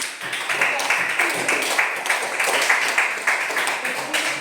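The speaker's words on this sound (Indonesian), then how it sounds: "Oke, tepuk tangan untuk kelompok." A class of students in a coding and artificial intelligence lesson claps for a student group in a rhythmic, unison pattern, sharp repeated beats pulsing evenly and close throughout.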